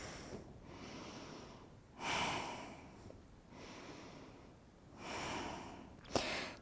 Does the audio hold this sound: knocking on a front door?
no